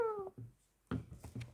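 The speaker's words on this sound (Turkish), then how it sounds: "kedi gelmiş" A cat meows a few times up close in a quiet home setting, with short vocal bursts separated by brief pauses and faint background sounds.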